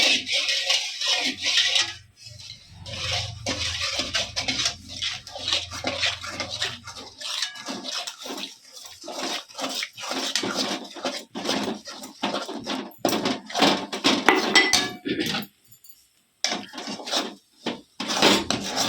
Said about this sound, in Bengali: আমি এবার আস্তে আস্তে চালের গুঁড়োটা এমনি দিয়ে আমি কাই করে দেবো